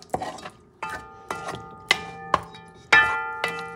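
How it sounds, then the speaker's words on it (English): A spoon knocks against a pot while beans and rice are stirred for Puerto Rican arroz mamposteao, giving about seven sharp, ringing metallic clinks at a roughly even pace, close and clear with no talking. "Mix things up."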